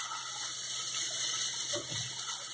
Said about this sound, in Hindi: तो तेल हमारा गर्म हो गया है, तो जो हमने बैटर बनाया है सूजी का उसे हम थोड़ा थोड़ा करके डालेंगे